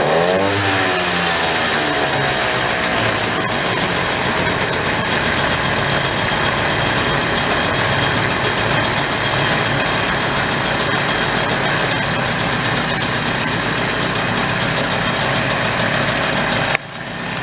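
A 1970 Benelli mini bike engine idles steadily for the full length, a close, loud, even mechanical putter with a brief sputter near the start and a small drop at the very end.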